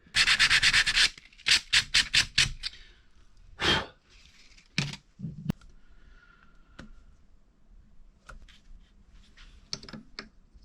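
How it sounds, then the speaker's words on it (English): Bare metal is roughed up on the top of a Kohler K19 small engine cylinder head in a series of short, loud scraping and sanding strokes, bunched at the start and then spaced out and fainter, close by with no talk. "Roughed up the top of the head to show some metal, so that would be good contact"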